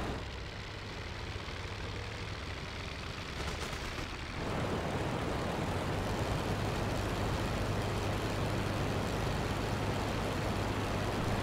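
A Halberstadt D.II fighter's engine drones in the Rise of Flight flight game, a loud, constant roar that grows fuller and rougher partway through and then holds steady, with no talking.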